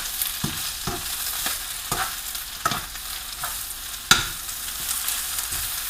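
Spinach cooking in a pot for wedding soup, a soft sizzle broken by irregular scraping stirs and one sharper knock, with no talking.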